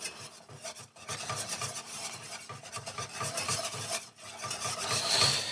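A chicken pot pie base is stirred in a pan over low heat, with a steady rhythmic scraping of a utensil against the pan bottom, close and fairly loud, broken by brief pauses and a faint sizzle underneath.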